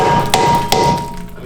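Two sharp hammer blows strike a wooden block held against a stuck, rusty brake rotor on a Ford Fusion, loud close thuds spaced evenly apart with a ringing metallic tail.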